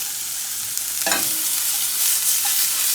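Vegetables and potatoes sauté with a pat of butter in a hot pan in a chef's kitchen. A steady soft sizzle hisses throughout, with a short scrape of stirring near the middle.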